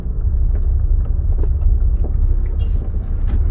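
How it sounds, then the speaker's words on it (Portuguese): A car pulls away on a hill start during a driving lesson as the clutch is released, its engine giving a loud, steady low rumble close by, with a few light rattles on top. "Agora volta a acelerar e soltar a embreagem."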